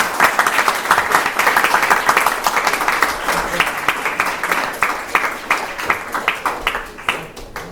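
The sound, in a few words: audience applause at ceremony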